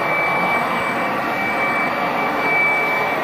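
A Tocmoc T230 stick vacuum runs on high speed with a loud, steady high-pitched whir and rush of air, then cuts off abruptly at the end.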